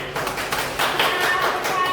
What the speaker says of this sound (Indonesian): Tepuk tangan untuk kelompoknya Jessica